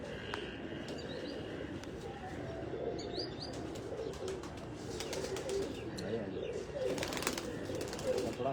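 Pigeons coo repeatedly in a loft of bred pigeons in Faisalabad, including a bird with wild-type coloring on one side and red on the other. The soft, rolling calls sit close amid light clicks and rustling.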